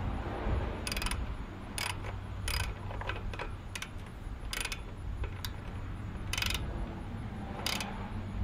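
A ratchet tightens a bolt during a pressure washer overhaul, giving a series of short, sharp clicking bursts at irregular intervals over a steady mechanical background hum, close and moderately loud with no talking.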